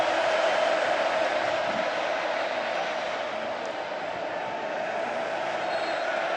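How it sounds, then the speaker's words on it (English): A large stadium crowd at Kyle Field during a Texas A&M Aggies versus Alabama Crimson Tide college football game roars in a steady, dense wall of noise that barely varies across the stretch. "now thunderous noise from the crowd here at Kyle Field"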